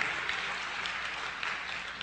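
Applause for journalist Jane Burgermeister, a soft, even wash of clapping from a crowd, faint and distant with a steady texture throughout and no voices on top.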